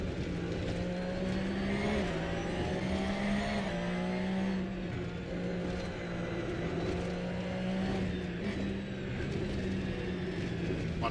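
A Porsche Cup race car at the Sachsenring heard from onboard, its engine droning steadily with pitch rising and dropping through gear changes and corners, loud and close throughout a lap.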